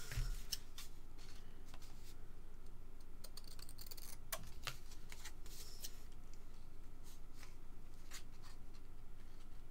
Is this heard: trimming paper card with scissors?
yes